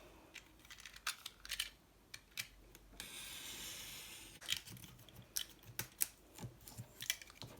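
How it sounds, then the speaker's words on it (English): A craft knife cuts card in close, sharp scratchy strokes, irregular ticks and scrapes, with one longer continuous drag midway. "To get my knife and cut that down"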